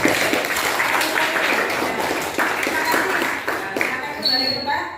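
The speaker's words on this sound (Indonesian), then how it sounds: "tepuk tangan untuk kelompok" Students in a classroom applaud a presenting group, a lively burst of many hands clapping at close range that tapers off near the end, with voices mixed in.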